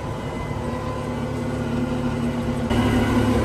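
A large tractor with a bat wing mower attached runs at a steady idle, a low continuous engine drone that swells slightly louder toward the end.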